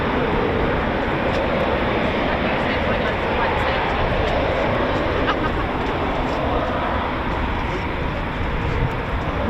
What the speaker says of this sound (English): here's probably our last departure of the day for us on the show. A nice 29 Squadron Typhoon